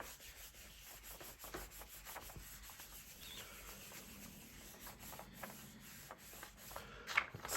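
Paper rubbed firmly over a stamped card in a papercraft pumpkin treat box project, giving a soft, steady close-up scraping with a sharper scuff near the end.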